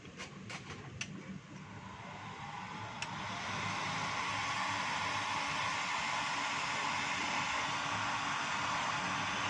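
A Stanley STEL670 heat gun runs steadily in a test, its fan giving a broad, even rushing whoosh that grows louder and holds constant after a few faint clicks at the start.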